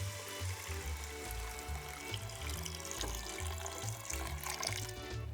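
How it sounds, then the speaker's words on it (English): Water poured from a tap into a cooking pot to cover beans for minestrone, a continuous close splashing and gurgling stream over the full length. "We are going to add the water to cover the beans."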